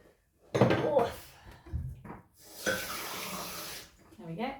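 Jar being filled with water from a sink tap: short bursts of running, splashing water into glass with a thunk or two, close by, with a voice talking over parts of it.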